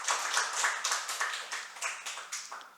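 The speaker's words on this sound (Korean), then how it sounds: "박수 한번 쳐보세요." Rhythmic handclapping from a church congregation during a Korean evening worship service, steady evenly spaced claps in unison, moderately quiet and slightly distant, with no talking over them.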